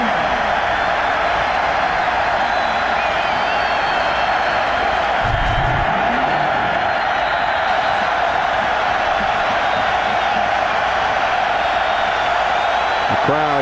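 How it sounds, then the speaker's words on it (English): Steady roar of a large football stadium crowd during a college game, a dense wall of noise lasting throughout, with a play-by-play voice faintly over it. "Crowd trying to help the defense."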